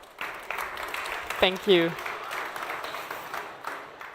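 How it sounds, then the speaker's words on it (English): An audience at a conference innovation stage claps in a scattered, moderate round of applause, partly under a brief spoken thank-you from a presenter. "Please, another round of applause."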